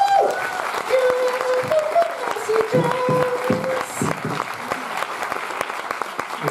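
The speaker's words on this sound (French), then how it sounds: "On les applaudit bien fort." An audience gives sustained loud applause at a French debate event, steady clapping throughout with voices and a sung or called tone early on.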